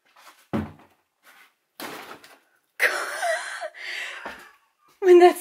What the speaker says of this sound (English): When that second door moved.